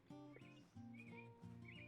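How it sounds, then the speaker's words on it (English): A bird in the hunting video game Morels: The Hunt chirps in short repeated whistles over a steady background of ambient game tones, faint and distant. "I'm hearing a bird over here."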